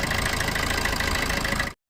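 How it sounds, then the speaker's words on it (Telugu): A 2015 Maruti Ertiga VDI diesel car idles close by with a steady, even low drone and a light rattle. It runs unbroken for almost two seconds, then cuts off, with no talking. "చూసారు కదండి ఇంజిన్ సౌండ్ కానీ మనకి అంతా కూడా బాగుంది"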